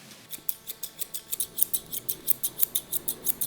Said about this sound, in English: To achieve that, I'm using my curved scissors.